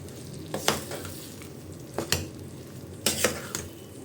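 Narthangai lemon pickle with salt and chili powder is stirred in a pan over a medium flame: a soft sizzle beneath four distinct scraping, clinking strokes of a spoon against the metal.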